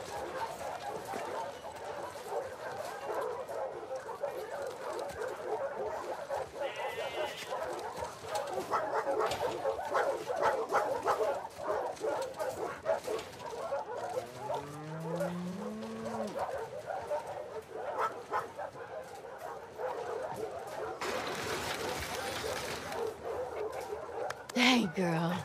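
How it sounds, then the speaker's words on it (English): A dog in The Last of Us Part II barks and whimpers in short bursts amid game ambience, with speech-like voices and animal sounds layered throughout. "Hey, you crazy dog."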